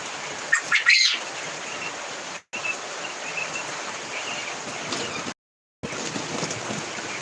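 Caged quail on a farm give a few sharp chirps early on, then soft hissing background noise follows with two brief dropouts to silence.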